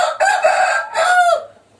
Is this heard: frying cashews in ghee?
no